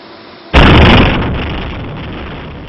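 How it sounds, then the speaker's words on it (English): The controlled demolition of the Noida Twin Towers sets off a sudden, massive blast that hits hard and then tails off into a long, loud rumbling roar, heard alone with no voices. "Floors of the Twin Towers collapsing one by one."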